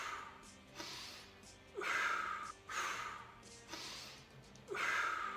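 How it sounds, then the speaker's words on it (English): Heavy rhythmic breathing during push-ups, about five strong inhale and exhale pushes close to the mic, each lasting around a second with short pauses between. "Now you're noticing I'm breathing through it."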